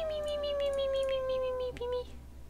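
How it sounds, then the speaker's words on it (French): A kitten in The Sims 4 video game gives a drawn-out, slightly falling meow. The call carries over soft game music, with a brief catch near the end, and is moderately quiet in the mix. "On a un petit chaton là"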